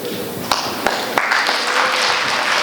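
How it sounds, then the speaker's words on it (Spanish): Audience applause at a lecture or panel event, a broad sustained wash of clapping with a few sharper claps standing out early, fairly loud and steady throughout. "Fuertes los aplausos."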